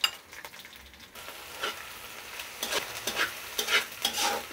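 Onion and ginger paste frying for a chicken pulao base are stirred in a pan, with a low sizzle and a series of bright metal spatula scrapes and clinks, close and fairly quiet.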